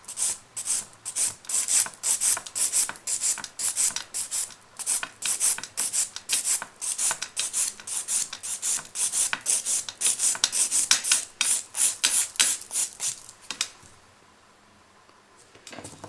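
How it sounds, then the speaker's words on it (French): A nail file rasps steadily back and forth with quick rhythmic strokes as gel nail polish is filed off during removal. The sound is close and continuous for about thirteen seconds, then it stops and goes quiet. "Vous voyez que j'essaye toujours de limer, même si c'est sur une dépose, en arrondi"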